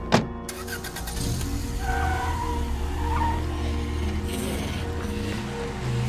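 An old, worn-out car in State of Decay 2 idles with a low, steady engine rumble throughout, a sharp knock at the start, and brief tire skids and squeals layered over the drone, with no talking.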